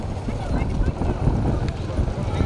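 Bull hooves thud and clatter rapidly on the ground at a bull race, amid loud excited shouting from a crowd.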